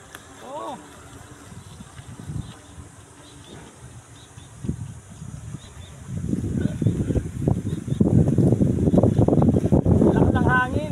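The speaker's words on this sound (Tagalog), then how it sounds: "Lakas ng hangin. Very windy today." Gusty wind buffets the microphone at a small lake where a model boat runs, a low rumbling roar that grows stronger in the second half, while a person talks intermittently.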